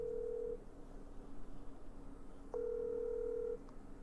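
Telephone ringback tone while calling a freight program's customer service line: two long, steady beeps, separated by about two seconds of quiet line hiss, heard alone with no talk.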